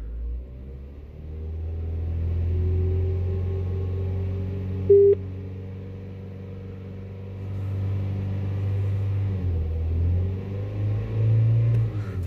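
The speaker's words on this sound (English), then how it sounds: "Rev up the engine." A car engine with an intermittent no-start fault idles low, then revs up several times in long swells before dropping back, with a brief electronic beep partway through.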